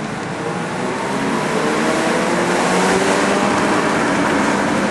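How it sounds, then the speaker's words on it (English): A Mazda RX-7 series 8 twin turbo driving, with a steady, loud broadband road and engine roar from inside the car that holds constant throughout. "I'm now driving it. It's a Mazda RX-7"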